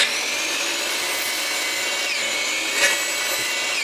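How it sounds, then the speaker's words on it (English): A miter saw set to 45 degrees cuts the ends off wooden pieces, its motor whining loudly and steadily with a brief surge as the blade bites through the wood near the end. "Now one more time back at the miter saw, we're going to put it back to 45 degrees and we're just going to nip the ends off"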